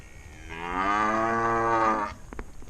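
Cattle give one long, loud, close moo of about one and a half seconds in a winter corral, and a few faint knocks follow.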